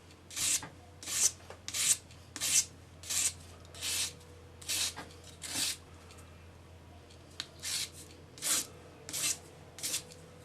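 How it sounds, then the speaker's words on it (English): A sanding stick rubs over a solder join on jewelry metalwork, giving a steady series of about fifteen short, raspy scraping strokes in an even rhythm, close and clear with no talking. "Just take your sanding stick, gently follow the curve, and you want to sand until all of the solder"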